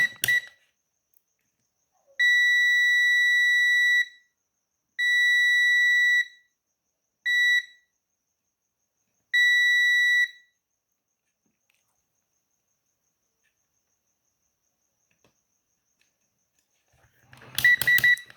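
Four sharp electronic beeps from a multimeter continuity test on a washing machine lid lock, steady high-pitched tones of varying length with pauses between them, followed by a long quiet stretch and a brief rustle at the end.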